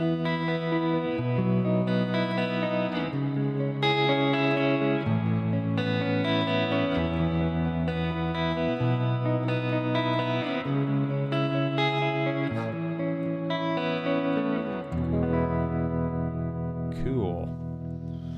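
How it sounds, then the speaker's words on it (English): An electric guitar plays chords and single notes through a spring reverb pedal on its bright wash preset, each note ringing out into a shimmering, washy tail, with a brief pitch-bending squeal near the end. "let's do a spring reverb again. We'll do a bright wash and see what that preset sounds like"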